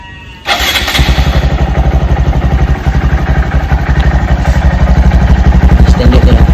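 A Honda Monkey 125 motorcycle with its standard exhaust starts up and runs at a steady, throbbing idle, a loud, close, pulsing engine note with mechanical clatter and no talking.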